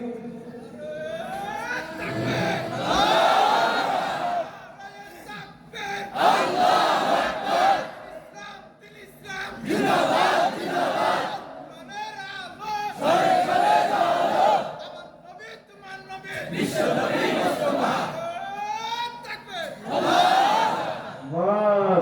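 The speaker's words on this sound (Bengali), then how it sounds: "জোরে একজনে তাকবীর দেন তো দেখি" A large crowd at an Islamic sermon roars a takbir chant in loud, repeated collective shouts, about six bursts separated by short pauses.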